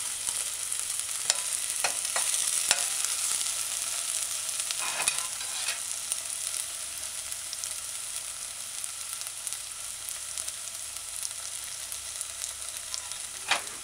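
Diced scallion sautéing in a pan for a broccoli broad bean stew, a continuous moderate sizzle with a few early scraping stirs and spoon taps, then settling into an even frying hiss.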